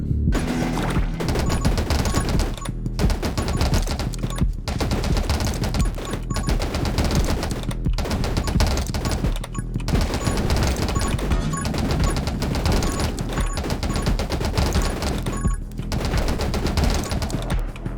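Rapid automatic gunfire from a weapon in the video game 20 Minutes Till Dawn, dense bursts rattling almost continuously with brief gaps, loud and close.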